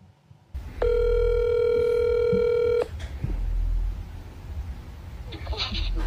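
A phone call plays over a speakerphone: a loud, steady ringback tone holds for about two seconds, then fades into room noise with a few faint clicks and a short tonal burst near the end.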